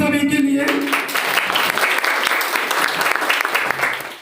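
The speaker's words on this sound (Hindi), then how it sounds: "एक बार जोरदार तालियां इन सभी के लिए" Loud applause from a seated audience at a motivational talk fills the room, steady dense clapping sustained for several seconds after a brief voice at the start.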